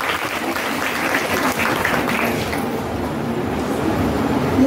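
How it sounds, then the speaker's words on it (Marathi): Loud, sustained applause from a crowd at a school's 78th Independence Day celebration, steady clapping that holds throughout without a break. "जोरदार टाळ्या."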